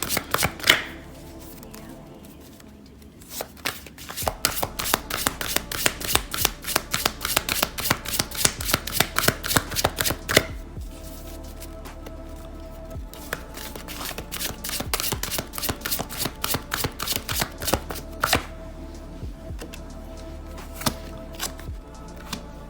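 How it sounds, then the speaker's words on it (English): An Angel Oracle card deck is shuffled in a run of rapid, crisp riffling flutters with short pauses between bursts, heard close and alone without talk. "So I've got my Angel Oracle deck here. We're going to pull a few Oracle cards"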